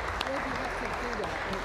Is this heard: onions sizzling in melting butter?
no